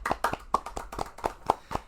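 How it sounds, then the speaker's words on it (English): A few people clap to mark a podcast's view-count milestone, about eight separate claps in an uneven rhythm, close and fairly soft, with no talking. "So let's clap for that."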